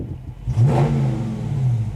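A 2019 Dodge Charger 392 Hemi Scat Pack in track drive mode gives a short, loud rev that rises and then settles into a deep, steady engine rumble, heard up close.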